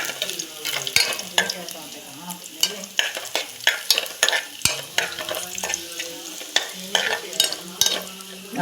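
Ginger, green chilies and curry leaves sautéing in a pan for a Kerala buttermilk curry, with steady frying sizzle and repeated sharp scrapes and knocks of a spoon stirring against the pan, close and fairly loud.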